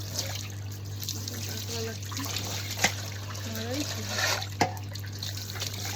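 A pot is scrubbed with soap under running water, with a trickling, splashing tap, soft scraping and a couple of sharp knocks, over a low steady hum; a voice speaks faintly at times.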